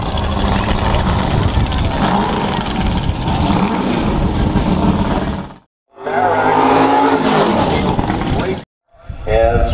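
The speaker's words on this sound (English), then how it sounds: "A Can-Am McLaren race car." A Can-Am McLaren race car engine roaring and revving loudly on a track, a dense sustained blare that cuts out briefly twice and returns, with a rising rev sweep and voices talking over it.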